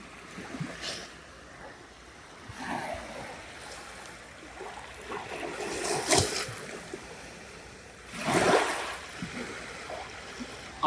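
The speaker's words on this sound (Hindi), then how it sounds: "पानी की आवाज़ सुनिए।" Sea water at a beach in Vlorë, Albania, with gentle waves washing in and breaking in slow surges, the louder swells arriving around every few seconds over a steady low wash, heard close with no talk.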